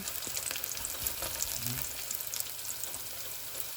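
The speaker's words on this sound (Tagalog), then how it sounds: "I-golden brown natin yung bawang. Bango ng bawang guys." Garlic frying in a pan gives a steady, close sizzle throughout, with a few faint stirring scrapes.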